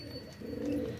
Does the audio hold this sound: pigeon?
yes